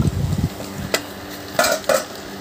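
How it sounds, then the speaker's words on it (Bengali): Chopped onions and garlic are mixed with spices in a bowl for steamed eggs in banana leaf, heard as close scraping and stirring with a few distinct clinks of a spoon against the dish. "এটাকে আমি ভালো করে মশলার সাথে মাখিয়ে নেব"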